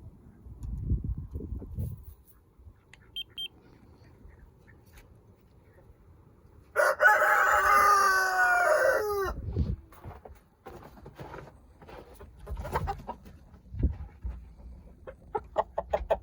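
A rooster crows once, loud and close, in the middle of a quiet stretch, with a few soft thumps and faint voices around it.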